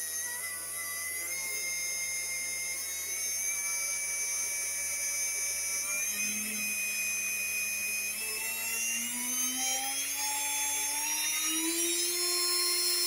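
Small electric motor from a Club 500 Slipway speedboat running on the bench, a steady high whine that rises in pitch and smooths out as the voltage is increased, continuous and close with no talk.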